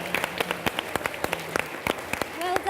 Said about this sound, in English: So can we just give a round of applause to our young panellists and the people who asked questions.